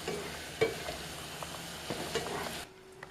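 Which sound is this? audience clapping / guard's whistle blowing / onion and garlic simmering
onion and garlic simmering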